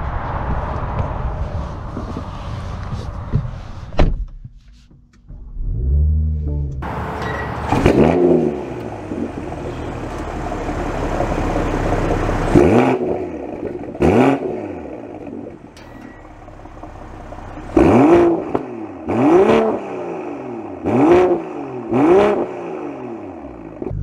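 A 2023 BMW M340i with an M Performance Exhaust revs in a series of sharp, loud blips that rise and fall, some with a pause between, then a quick run of several more, with no voices.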